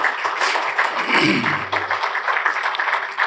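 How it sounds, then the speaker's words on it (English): Audience applause at a speaking event as several people are asked to stand, a dense, steady wash of clapping that carries on through the whole stretch with some voices mixed underneath. "So give them a round of applause."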